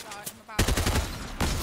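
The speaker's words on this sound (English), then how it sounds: "No, I'm getting shot at" Rapid automatic gunfire in Fortnite breaks out after a short quiet stretch, with dense bursts of shots at close range that continue almost without pause to the end.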